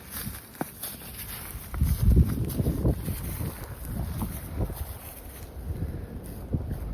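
Strong, freezing gusting wind buffets the microphone outdoors by grazing livestock, a constant rumbling roar that swells and fades, with faint crunching movement underneath.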